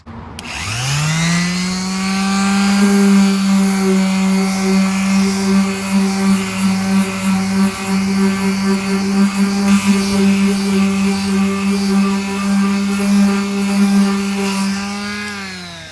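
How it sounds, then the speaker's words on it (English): A car body is sanded with 320 grit sandpaper on a motor-driven sander. It spins up to a loud, steady, humming whine that runs close and unbroken for about fifteen seconds, then winds down at the end. "So you can use 320 grit sandpaper, watch."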